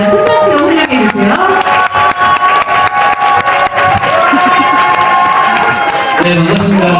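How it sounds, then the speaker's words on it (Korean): Crowd applause and cheering from a seated audience at a business presentation, welcoming a presenter to the stage. Dense clapping runs steadily throughout, with a voice speaking over it near the start and end. "큰 박수로 환영해주세요."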